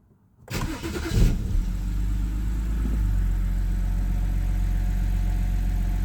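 A BMW 330i with about 257,000 km and a known VVT motor fault cranks briefly, catches and settles into a steady, even idle close by, with no talking.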